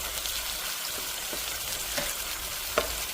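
Thin-sliced bitter gourd fries in a pan with a steady, loud sizzle, while a spoon stirring it adds a few soft scraping knocks.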